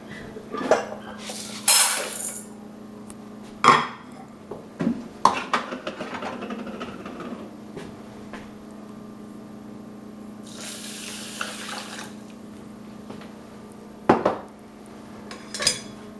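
Rice going into a steamer in a home kitchen, heard as scattered clinks and knocks of pots, dishes and utensils, with a brief splash of running water partway through, all fairly close and with no talking.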